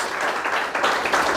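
A church congregation claps in praise during a Portuguese-language sermon, a brief, dense burst of many hands clapping at a steady level.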